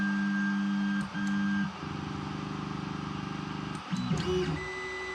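A new Creality Ender 3 Pro 3D printer, heated to 244 degrees, whirs into its print run with steady stepper-motor tones that shift pitch several times, ending in a few rising motor sweeps and beeps, close and alone.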